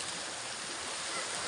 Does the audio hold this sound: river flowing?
yes